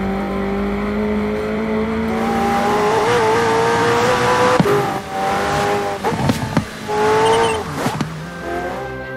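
McLaren Senna engine recorded from inside the cockpit in Forza Horizon 4, loud and close, with a steady drone that climbs through revving gears, followed by sharp pops and crackles and some tire squeal.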